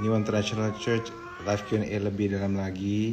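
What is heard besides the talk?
pet cat meowing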